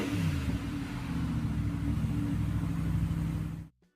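An Audi R8 sports car, the V10 Plus with a 5.2-litre engine, roars in a loud, sustained rumble with a rising, revving note for nearly four seconds before cutting off abruptly.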